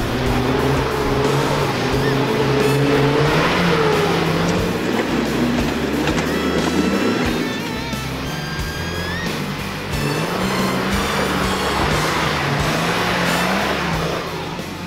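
A wagon towing a camper trailer revs hard and climbs rock steps off-road, its engine roaring loud and steady throughout, dipping and surging as it lugs over the ledges.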